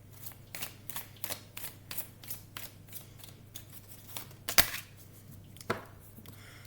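Tarot cards being drawn and handled, a series of crisp, close snaps and flicks of card against card at an irregular pace, quiet apart from a couple of sharper slaps near the end.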